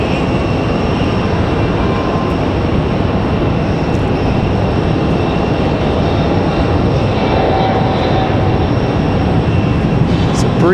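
A Breeze Airways jet departs Raleigh-Durham International, a loud, continuous broadband roar holding steady throughout, close and dominant with no breaks.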